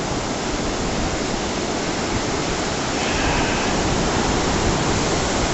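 Roaring hurricane wind and rushing floodwater at the storm's peak around a flooded house, a dense, steady wall of noise that stays loud and unbroken throughout.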